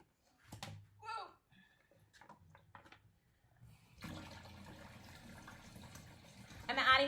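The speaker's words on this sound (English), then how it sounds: "I'm adding more water" Water pours into a tub during a children's science demonstration, a steady splashing rush starting midway and growing louder, following a stretch of soft talking and handling noises.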